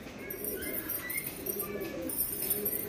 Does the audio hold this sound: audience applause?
no